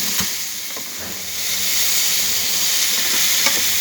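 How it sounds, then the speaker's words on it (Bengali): Bitter gourd (karela) frying in a pan gives a steady, close sizzle with a bright hiss and a few soft stirring scrapes throughout. "আমি এখন এই ঔষধি ভাজিটা করতেছি, আপনারা সবাই দেখুন কীভাবে আমি এই ঔষধি ভাজিটা করি।"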